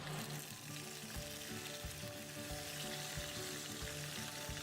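Chicken frying in oil with whole spices, a dense continuous close sizzle and crackle with faint stirring, steady throughout with no voices.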